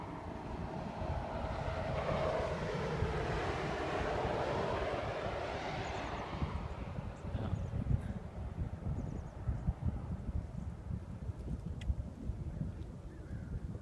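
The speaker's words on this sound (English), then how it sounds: "That plane didn't drop anything." A plane flying over a wildfire during an evacuation makes a broad roaring drone that swells and then fades, with wind rumble continuing after it passes and no one talking.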